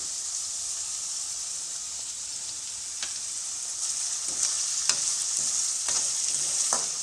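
Vegetable fried rice with salt sizzles steadily in a frying pan, and a spatula scrapes and clinks through it in occasional strokes, close and continuous with no talking.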